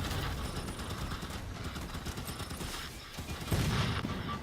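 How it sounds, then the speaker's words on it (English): Mantis mech in Halo 5 taking damage amid dense gunfire, a constant rattling barrage of impacts and mechanical clanks with a heavier burst near the end, loud and busy throughout. "Oh, and now you hear that bang right there? That is my Mantis taking damage."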